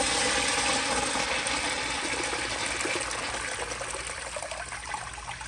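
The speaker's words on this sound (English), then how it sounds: "I'll give y'all another flush." A Kohler Bardon washdown urinal flushes with a loud, close rush of water that slowly eases into a softer trickle as the bowl drains, with no talking.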